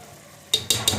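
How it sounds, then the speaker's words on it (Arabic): Almonds frying in oil in a pan, a soft background sizzle broken by three sharp bursts of crackling and spattering as the nuts are stirred. "هنا دايره باش نقلي اللوز"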